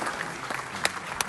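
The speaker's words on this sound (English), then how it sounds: "Can we all give a huge round of applause to KV Arjangarh" A short burst of steady audience applause at a school awards ceremony, even and moderately loud throughout.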